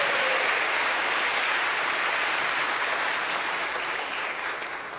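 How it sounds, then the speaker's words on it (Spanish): A church congregation claps in praise, a dense, sustained round of applause that stays loud and steady and tapers slightly near the end, with no talking over it. "¿Cuántos dan una alabanza de palmas al Señor?"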